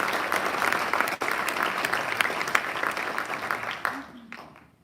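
Audience applause fills a military wing's quarterly awards ceremony, a dense, steady wash of clapping for team nominees that tapers off near the end as it fades.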